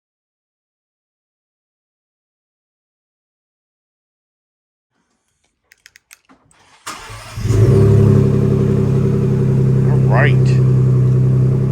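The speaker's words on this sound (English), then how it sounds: "yesterday I put on a new exhaust on the Bronco 2." A Ford Bronco II fitted with a new exhaust cranks after a few sharp clicks, then catches and settles into a loud, deep, close-up idle rumble, with a brief rising rev near the end; a voice speaks briefly beforehand.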